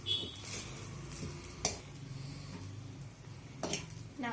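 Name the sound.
stirring veg fried rice with gravy in a pan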